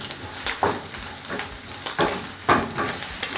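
Liver sizzling and frying in a pan on a home stove, a steady crackle broken by several louder bursts and stirring scrapes, close and fairly loud with no talking.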